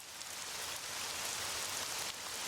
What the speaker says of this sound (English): still raining lightly.